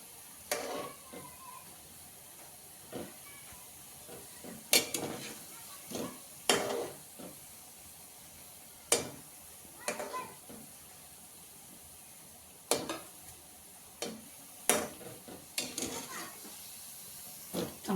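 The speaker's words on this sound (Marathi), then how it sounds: "सर्व गुलाबजाम तळायला मी टाकलेले आहे" Gulab jamun deep fry in oil on low heat with a faint steady sizzle, punctuated by irregular clinks and scrapes of a spoon turning them in the pan.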